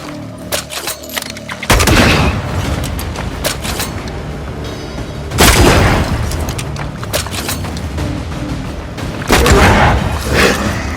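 Loud gunfire from a corpse enemy in Banishers: Ghosts of New Eden, with heavy booming bursts of shots that repeat in waves over dense combat noise. No one speaks.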